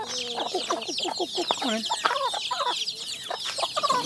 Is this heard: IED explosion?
no